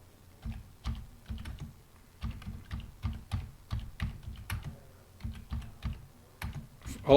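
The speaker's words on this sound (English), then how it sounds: "I want to type something in." Quick bursts of typing on a computer keyboard, clusters of crisp key clicks separated by short pauses, close and clear, without any talking.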